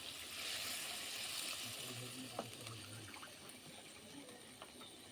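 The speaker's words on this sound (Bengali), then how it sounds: "আমি কড়াইতে দিয়ে দিচ্ছি জল, 1 কাপ দিয়ে দিলাম।" Water pouring from a cup into a wok while Maggi noodles are being made, a soft steady trickle and splash lasting a few seconds, quiet against low background noise.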